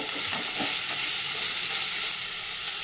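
Onion, vegetables and green chillies sizzle and fry in a little oil on a flat pan, a steady close hiss with faint stirring scrapes, no voices.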